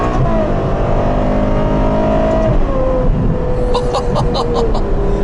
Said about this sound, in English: All the engine noise